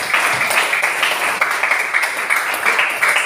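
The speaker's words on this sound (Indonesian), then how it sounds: "Baik, tepuk tangan untuk kalian." A class of students claps together in an Indonesian Quran-reading lesson, a continuous, bright patter of many hands that stays loud and even throughout.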